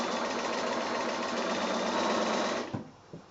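A sewing machine stitches quilt patch seams with a steady, close mechanical whir that stops abruptly, followed by two soft clicks.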